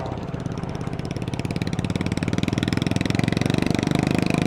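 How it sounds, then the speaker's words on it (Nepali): A Royal Enfield Bullet motorcycle labors uphill on a dusty dirt trail, its single-cylinder thump loud and close, building into a rapid, even pulsing beat that grows stronger toward the end. "तर बाइकले त बवालै तानिरहेको यार"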